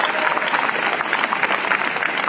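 Dense, loud audience applause at a mayor's State of the City address in Cleveland, a continuous close wash of many hands clapping with no talk.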